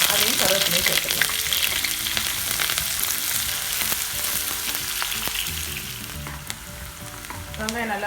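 Shallots and curry leaves go into hot oil after mustard seeds for a yam curry, giving a loud, dense, crackling sizzle that eases a little as stirring scrapes come and go.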